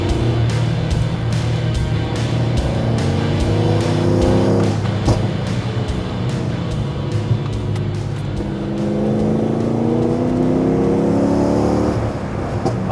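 A tuned C6 Corvette engine revs hard on a canyon road, loud and close with rising and falling pitch sweeps as it accelerates through the gears, continuous throughout.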